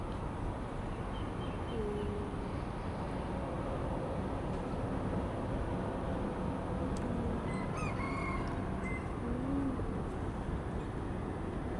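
A red rooster crows faintly in the distance in the morning over a steady wash of busy city traffic and noise, with a few other bird calls scattered throughout.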